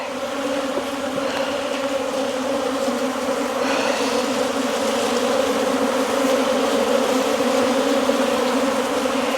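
Honeybees buzz around a farm hive in a dense, continuous close-up hum that holds steady and full the whole time, with no voices.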